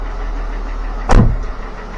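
A 2013 Jeep Wrangler Rubicon engine runs at a steady idle, then gives one brief rev that swells and settles back, loud and close with no talking.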